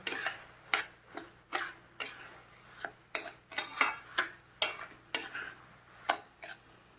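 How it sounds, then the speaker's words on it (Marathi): A lemon pickle mixture with sugar and chili is stirred in a pot, a spoon scraping and knocking against the metal in close, uneven strokes about once or twice a second, with no talking. "आता हे मिक्स करूया आपण"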